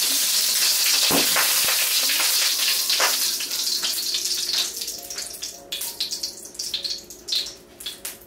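Olive oil poured into a hot wok sizzles and crackles loudly at first, then settles into uneven popping and spitting bursts that grow sparser toward the end.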